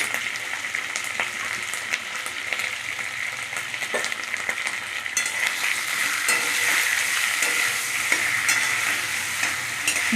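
Tomato paste frying with spices in a pan for a vegetarian soybean dhoka, a steady close sizzle with stirring scrapes running throughout, no voices.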